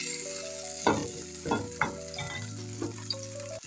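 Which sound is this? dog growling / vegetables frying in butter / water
vegetables frying in butter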